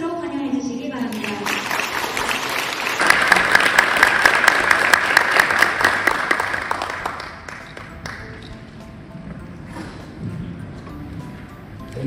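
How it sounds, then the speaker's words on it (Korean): Audience applause welcoming a senior vice-chairman to a policy lecture in Osaka, a broad sustained clapping wash that swells to full strength, holds for several seconds, then thins out while voices continue underneath. "김선호 수석 부회장님을 큰 박수로 환영해 주시기 바랍니다."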